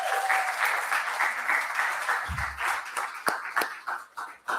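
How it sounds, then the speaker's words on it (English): A crowd at a city council meeting claps in applause, fairly loud at first and then breaking into scattered, individual claps that fade out. "let's give the parents a big round of applause"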